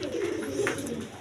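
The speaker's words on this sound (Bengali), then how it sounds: "বন্ধুগণ এখানে এক পেয়ার রাজগোল্লা কবুতর আছে" Raj Golla pigeons coo softly and close by in a brief, low rolling burst with a couple of overlapping calls in a quiet setting.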